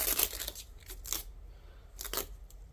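A custom Lego sticker peeled off its backing in a few quick crackly strips, with a pause between the tears; it is close and fairly quiet, and no one speaks.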